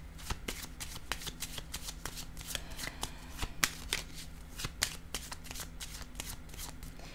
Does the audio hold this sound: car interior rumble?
no